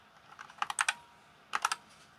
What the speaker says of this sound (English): let's come down and type in disk,